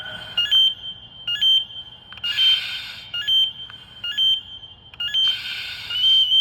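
An SCBA breathing apparatus full alarm sounds repeatedly, shrill pulsing beeps alternating with bursts of harsher, louder tone, cycling every few seconds.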